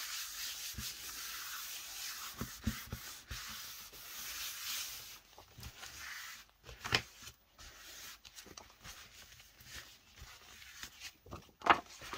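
Rubbing and wiping to clean a handmade birthday card: continuous soft scrubbing close by, broken into short strokes, with a few sharper taps and scuffs later on.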